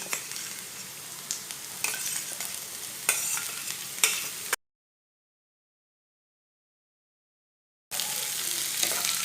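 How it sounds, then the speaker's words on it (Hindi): Onions and crushed raw mango stirred and fried in a pan over medium heat give a close, steady sizzle with spoon scrapes, cut off by a few seconds of dead silence before the frying resumes. "ऐसे इसे चम्मच चलाते हुए मीडियम आंच पर पका लेना"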